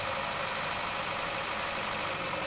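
Car engine running steadily during a driving lesson, a continuous broadband hum with a low rumble, close and even throughout with no voices.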